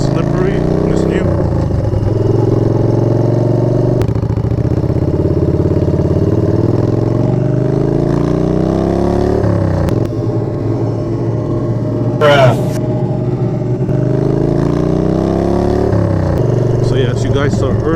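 A motorcycle on brand-new tires rides through slippery city streets, its engine droning steadily with rising and falling revs, while the rider talks over it almost throughout.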